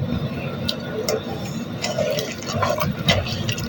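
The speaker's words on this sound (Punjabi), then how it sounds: "ਪਾਣੀ ਪਾਉਣ ਦੀ ਵਾਰੀ ਆ ਗਈ।" Water pours into halwa cooking in a pot in a traditional village kitchen. It makes a bubbly, splashing fill sound with faint voices underneath.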